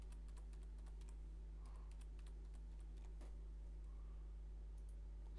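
Keystrokes on a computer keyboard as a password is typed into a Samsung camera's firmware settings, a quiet run of irregular clicks over a steady low hum, with a brief pause midway.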